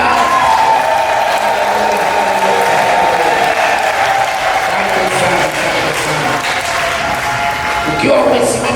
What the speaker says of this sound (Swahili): tumchapie makofi Bwana Yesu sana